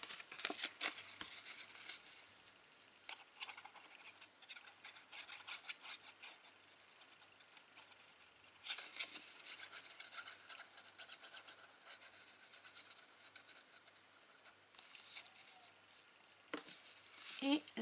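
Paper gluing strips on a pop-up butterfly card rub against each other, giving soft, dry scraping passes that come in short repeated bursts, fairly quiet and close.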